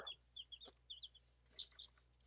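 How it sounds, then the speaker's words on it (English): Chickens at a homestead clucking softly in short, scattered calls, with one slightly louder burst near the end, heard fairly close over a quiet background. "More chickens."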